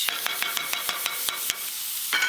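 About 12 ounces of chorizo crumbled into a hot skillet over medium heat, giving a steady close sizzle broken by a quick run of rhythmic scraping taps from a utensil.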